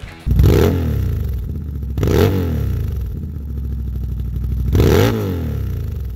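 A CFMoto ZForce 1000 side-by-side fitted with an Attitude Industries Punch It exhaust revs hard three times, each sharp throttle blip rising and falling over a loud, rumbling idle.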